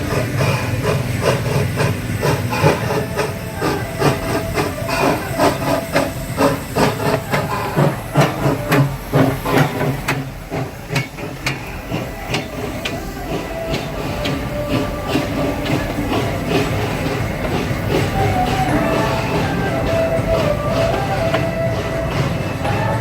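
A steam train runs at an amusement park. It gives a steady, loud hiss of steam with a rhythmic chuffing and clatter that carries on for over twenty seconds, then continues as an even rumble.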